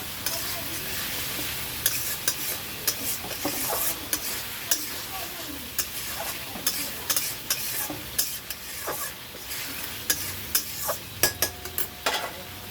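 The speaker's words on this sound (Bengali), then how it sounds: "আর একটু কষা হবে।" Potatoes and tangra fish with green chilli fry in oil in a pan, a steady sizzle broken by repeated scraping strokes of a spatula that come in quick irregular bursts, close and fairly loud, with no talk.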